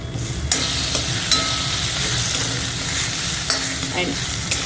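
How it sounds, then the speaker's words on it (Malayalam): Ginger-garlic paste sautés in hot oil for a Kadai chicken, giving a steady loud sizzle with repeated scraping stirs of a spoon against the pan. "അതായത് ഇഞ്ചിയും വെളുത്തുള്ളിയും കൂടെ അരച്ചത് 2 ടീസ്പൂണ് അത് ചേർത്ത് ഒന്ന് വഴറ്റുക"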